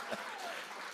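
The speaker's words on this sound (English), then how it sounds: "Let's give her a big round of applause" A crowd at a conference event bursts into applause, a dense, even wash of clapping filling the full second at moderate loudness.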